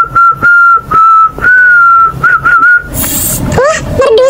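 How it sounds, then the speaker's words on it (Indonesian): A person whistles a sustained, wavering melody close to the microphone, a clear tone that holds for nearly three seconds before giving way to a rustle and a couple of shorter rising whistle notes. "Gue coba bersiul ke Siva aja"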